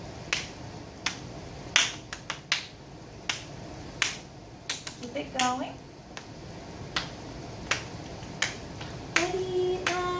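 Third-grade children clap a steady ostinato rhythm in sharp, evenly spaced claps that continue throughout, with an adult voice briefly speaking and singing over it near the end.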